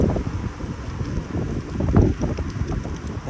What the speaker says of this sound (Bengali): মনে হয় আশেপাশে কোথাও বৃষ্টি নামবে, যার কারণে বাতাস বেশি।